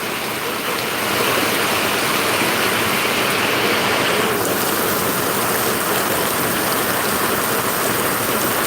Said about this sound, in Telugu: వర్షం భయంకరంగా ఉంది